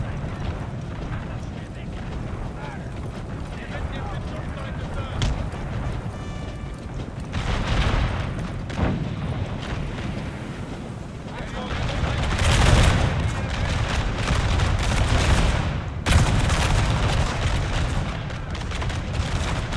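Musket volleys and artillery in Napoleon Total War rumble through a game of a knockout tournament: dull booms and crackling fusillades swell and fade under steady voices, the heaviest bursts coming midway and near the end.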